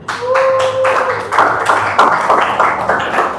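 Students in a classroom clap for a classmate, a loud, roughly rhythmic run of close hand claps that grows denser partway through.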